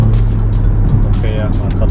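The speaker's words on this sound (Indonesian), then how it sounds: "Nah ini kita udah masuk tol, kita lagi ngerasain setengah-setengah gas." A Mercedes GLA45 AMG tuned to 432 wheel horsepower cruises at half throttle on a toll highway, with a steady, loud low engine drone and road rumble throughout and a voice talking over it.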